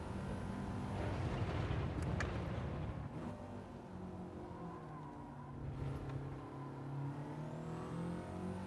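A car engine revs and races in the Gran Turismo video game, a steady droning whine that rises and falls with shifts, heard fairly quietly throughout with no speech.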